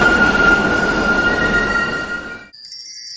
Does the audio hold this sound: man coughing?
no